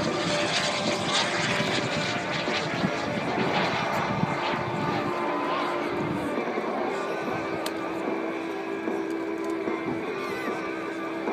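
A jet-powered glider flies at the 2013 Bagotville airshow, its engine a continuous broadband roar with a steady high whine, loud and sustained throughout with no pauses.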